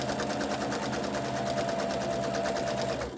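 A sewing machine chain-piecing quilt pieces runs in a steady, close, continuous whir, its rapid needle rhythm holding at an even speed for the whole stretch with no voices.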